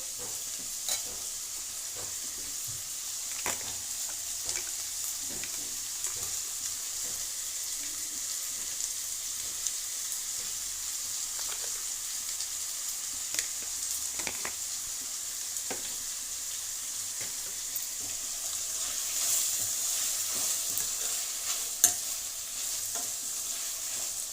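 Ridge gourd simmering in a milk curry in a pan, stirred with a steady low sizzle and bubbling throughout, with scraping of the spoon against the pan.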